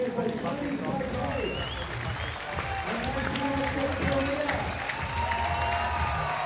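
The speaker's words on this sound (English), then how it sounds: "And the crowd loving it here in Copenhagen, Denmark." Crowd applauding at the recurve women's gold-medal archery final of the 2015 World Championships in Copenhagen, Denmark, with steady clapping and cheering throughout under a commentator's voice.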